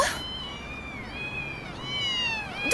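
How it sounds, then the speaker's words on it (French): Several cats meow in an animated cartoon, a chain of close, rising and falling cries overlapping one another, ending in a sharper yowl. "D'où viennent tous ces chats?"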